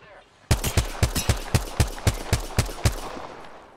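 Rapid gunfire in the Apex Legends video game: a burst of about ten sharp, evenly spaced shots rings out loud and close after a brief quiet start, then fades into a lingering tail.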